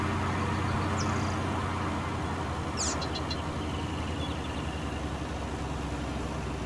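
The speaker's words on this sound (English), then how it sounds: "Going so fast, it sounds like a jet engine." Vehicle engine in the Farming Simulator video game driving fast, a steady moderate drone with brief high chirps, no talking over it.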